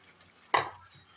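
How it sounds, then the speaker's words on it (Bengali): Soaked moong dal tipped into a pan of bottle gourd: one brief soft thump and rustle, followed by a short stirring scrape, close and otherwise quiet. "এবার আমি মুগের ডালটা পুরোটা দিয়ে দেবো।"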